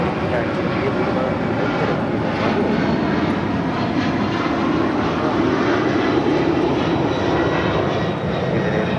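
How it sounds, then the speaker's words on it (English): ABX Air Boeing 767-200 converted freighter departing LAX, a continuous heavy jet engine roar holding steady and close throughout, with voices talking faintly in the background. "It's ABX Air 1403 departing to Cincinnati on a 767-200 converted freighter"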